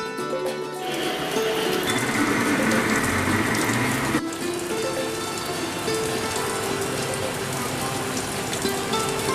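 A heavy rain shower pours down steadily, a loud, dense hiss of drops hitting surfaces that continues unbroken, with a brief shift in tone partway through.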